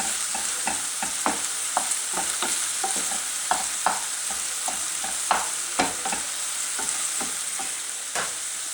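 Cooked spinach sizzles in a hot frying pan while a utensil scrapes and pats it into two balls, giving steady frying hiss under irregular clear taps.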